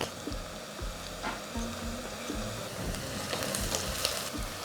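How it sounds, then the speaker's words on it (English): Onions seasoned with salt and turmeric sizzle steadily in generous oil in a pan, a continuous close frying hiss with occasional stirring scrapes, no voices. "Now that the onion is fried and golden, we take it out."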